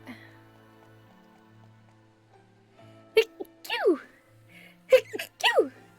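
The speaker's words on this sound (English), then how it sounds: "I felt a sneeze coming on." Two sharp sneezes about a second apart, each with a quick intake before the burst, close by against near silence.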